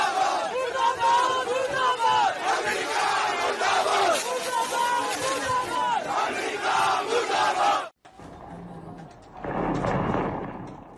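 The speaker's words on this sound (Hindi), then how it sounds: "खामेनेई के सपोर्ट में झंडे लहराए गए, नारे लगाए गए।" Large crowd at a protest supporting Khamenei, loud massed shouting and chanting of slogans for about eight seconds, then a brief drop and a quieter, more distant surge of crowd voices.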